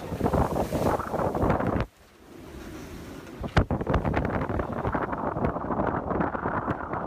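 Strong wind buffets the microphone aboard a sailboat under a reefed mainsail in heavy weather, a loud gusty roar that briefly drops away before surging back with sharp bursts.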